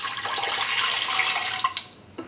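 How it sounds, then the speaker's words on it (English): A steady splashing pour of 200 ml of water into a cooking pan runs close and fairly loud for about two seconds, then cuts off with a few small splashes. "Now pour in 200 ml of water."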